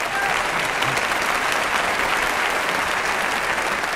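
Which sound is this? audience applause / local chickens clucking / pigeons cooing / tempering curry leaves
audience applause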